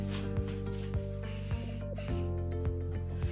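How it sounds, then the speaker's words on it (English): Hairspray misted lightly over styled blonde hair in a salon, heard as several short, soft aerosol hisses in quick succession, fairly close and with no talking. "not too much hairspray, just a light mist."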